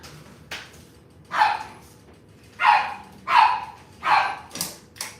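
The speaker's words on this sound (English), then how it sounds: "Been hearing the dogs all day." A dog barks several times from a short distance, single sharp barks spaced about a second apart, against a quiet background.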